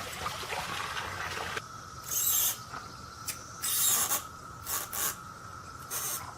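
Plastic parts of an above-ground pool skimmer rub and click against each other in several short, crisp bursts of scraping separated by brief pauses, heard close up.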